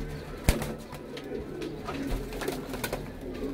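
Pigeons coo in low, soft bursts nearby, with a brief rustle of movement, and no talk over them.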